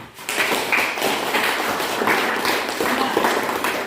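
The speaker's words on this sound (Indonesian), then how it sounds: "Kita semua tepuk tangan dulu." Schoolchildren in a classroom clap their hands together, a loud, continuous patter of many claps close by that rises quickly and keeps going.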